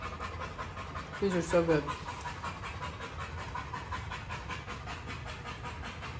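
A hot dog that has been running around pants in quick, rhythmic breaths close to the microphone throughout, while a person speaks briefly over it.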